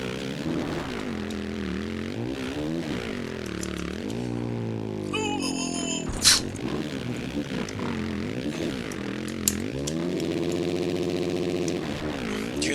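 Dirt bike engines rev hard in the motocross game MX vs. ATV All Out, Pro MX 450 class, a loud continuous buzzing drone that rises and falls in pitch, with a sharp crack midway.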